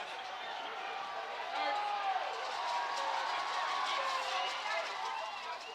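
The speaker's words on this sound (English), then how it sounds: "This Kamitian field crowd is revved up right now." A football crowd at Kamitian field during a varsity high school game, Holliston against Concord-Carlisle, roaring in steady, swelling cheers and screams from a distance, with an announcer's voice over it.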